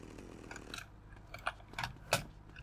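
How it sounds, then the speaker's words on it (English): A chainsaw in the video game GTA Vice City gives short mechanical bursts and clanks, a few brief loud hits over a low running drone, with no talking. "Strolling with the chainsaw."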